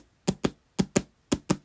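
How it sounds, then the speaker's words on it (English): A hand bangs against a chest, tapping out a drum rhythm as air drumming: three pairs of quick, dull thumps, close and clear with silence between them. "I don't know if you can hear me banging against my chest there"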